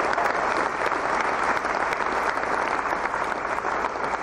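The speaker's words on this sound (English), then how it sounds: "let's have a little round of applause for Mike Salvatore, everybody." Audience at a Halo Universe voice actor convention panel breaks into steady, dense applause, loud and close, sustained evenly throughout with no talking over it.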